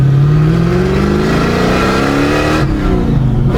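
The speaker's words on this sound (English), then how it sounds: "Hold on a second, I gotta hit the gas." A car engine revs hard under acceleration, loud and continuous, its pitch sweeping upward and then dropping sharply near the end as the throttle eases.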